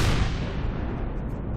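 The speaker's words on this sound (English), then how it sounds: "I'm just going to use the rockets instead of this." A heavy, booming rocket blast from a video game, fired at a turret in Empyrion, rumbles loud and deep, then decays over about a second and a half.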